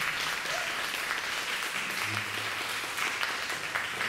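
Applause for a trio at an acoustic music festival in Nagaoka, a thick, continuous wash of clapping from a sizeable crowd that holds steady and loud throughout, with a faint low hum beneath.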